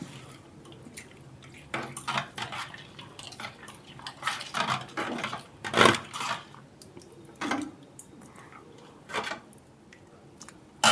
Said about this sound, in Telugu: ఒకసారి బాగా కలుపుకుందాం